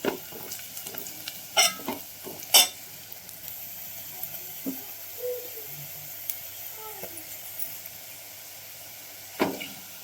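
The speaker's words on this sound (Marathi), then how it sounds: "तेलामध्ये थोडीशी हळद टाकली" Turmeric fries in hot oil for a chickpea-greens vegetable dish, a soft steady sizzle with a few sharp clicks and knocks of utensils and pans early and near the end.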